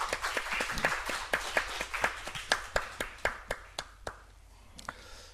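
A church congregation claps together in a sparse, uneven burst of sharp individual hand claps that thins out and fades toward the end, heard fairly close with no talking.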